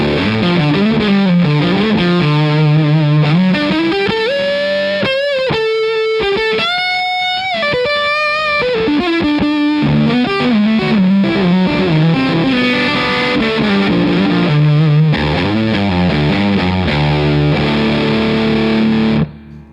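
An electric guitar through a Jam Pedals Eureka fuzz pedal plays loud, thick distorted chords and sliding notes, sustaining continuously with a rich buzzing tone before cutting off at the end.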